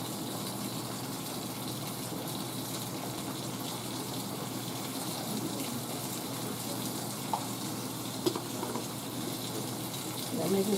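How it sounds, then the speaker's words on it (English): Water runs steadily into a kitchen sink for washing, a continuous gushing hiss with faint clinks near the end and a voice speaking softly underneath. "Put this in the sink. Get ready to wash it."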